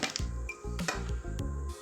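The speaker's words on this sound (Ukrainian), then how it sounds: "Часник для кращого аромату я роздавлюю ножем" A few sharp knife knocks and crunches as garlic is crushed with a knife on a cutting board, irregular and close, with short pauses between them.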